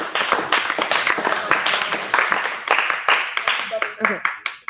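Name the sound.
class applause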